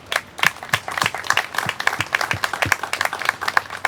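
An audience at a state park gateway ribbon cutting claps with distinct, fairly close hand claps in a brisk, uneven rhythm, a small crowd's applause sounding alone for a few seconds.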